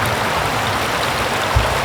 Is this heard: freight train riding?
no